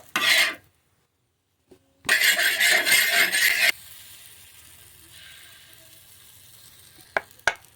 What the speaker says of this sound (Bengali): একইভাবে পরের ব্যাচটাও ভেজে নেব।